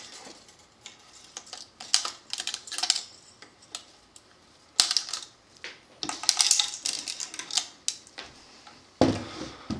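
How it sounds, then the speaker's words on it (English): Old strings are pulled off the bridge of a hollowbody guitar: a scatter of sharp metallic clicks, ticks and scraping rattles in irregular clusters, close and fairly loud, with no talking. "now pull them all off the bridge"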